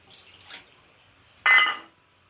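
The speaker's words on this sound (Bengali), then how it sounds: "জলটা ফেলে দেব।" Water is tipped out of a bowl after washing mustard seeds, a short faint trickle followed by a brief, louder splash of pouring lasting about half a second, then quiet.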